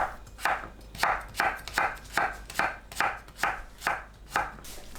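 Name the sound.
slicing pitted jujubes with a knife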